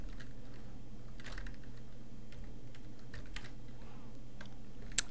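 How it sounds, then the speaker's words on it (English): Steady typing on a computer keyboard, a continuous run of light, quick key clicks at close range with no voices, ending in one slightly sharper tap. "So then we'll type a paragraph,"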